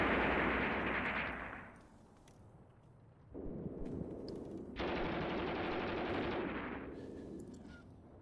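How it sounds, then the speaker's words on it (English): Machine gun fire in the Graviteam Tactics war game, a sustained rattling burst at moderate distance that stops, then resumes in two long, steady stretches of rapid firing. "That's a machine gun."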